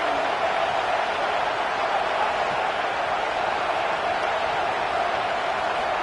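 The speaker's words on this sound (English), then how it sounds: "this crowd is fired up. Listen to this noise here." Steady roar of a stadium crowd in the College Football 27 video game, a dense broadband wash of cheering that holds at an even, loud level throughout with no clear breaks.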